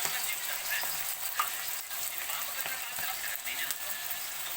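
Ginger garlic paste frying in a pan while noodles are being cooked, a steady broadband sizzle with occasional light clicks and stirring scrapes, close and moderately loud throughout.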